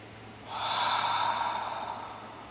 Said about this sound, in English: And breathe deeply.